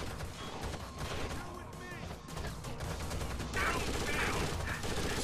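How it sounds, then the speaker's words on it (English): Heavy gunfire in Rainbow Six Vegas, the tactical shooter game: dense bursts of rapid shots and loud cracks. They run continuously throughout, with faint voices in the mix. "Under heavy fire."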